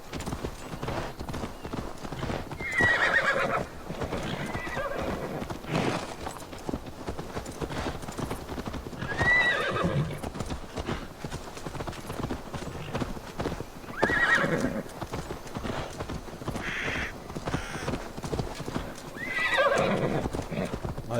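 Horse hooves clip-clop steadily and close in Assassin's Creed Valhalla, the gallop running the whole time, with occasional neighs and whinnies rising over the hoofbeats.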